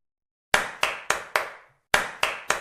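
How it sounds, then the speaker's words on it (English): Hands clap crisply in a short rhythm: four evenly spaced claps, a brief pause, then three more, close and clean with nothing else heard. "I clap my hands after the song."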